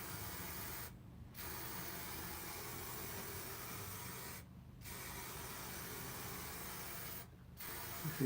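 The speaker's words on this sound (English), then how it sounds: "this is just spray glue now" Three short bursts of spray glue from an aerosol can, each about half a second long, evenly spaced over a steady background hiss, applied under a pool table cushion during a cloth refit.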